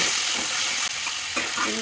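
Loud, continuous sizzling of onion, tomato, green chillies, cashews and melon seeds frying in hot oil, close up and steady, with faint clinks of a utensil.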